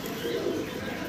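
Yellow pigeons coo softly in a brief, faint, low murmur against steady background noise.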